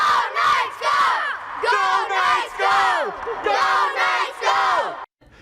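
Hockey fans in Las Vegas let out a loud, rhythmic crowd chant, several rising-and-falling bursts of massed voices yelling in unison, close and forceful, ending abruptly.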